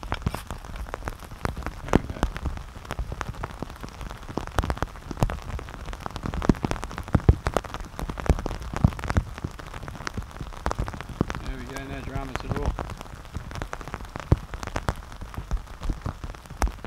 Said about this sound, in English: It's just the rain's coming down pretty heavy now.